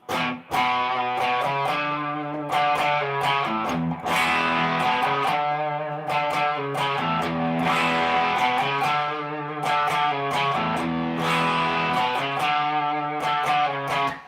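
A distorted electric guitar plays a chunky, repeating 1960s rock riff through a fuzz pedal with a thick, buzzy tone, loud and continuous with rhythmic chord stabs on a big E.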